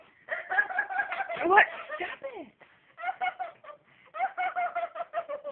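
A chicken clucks in short repeated bursts with pauses between them, close and fairly loud, while people talk briefly over the noise.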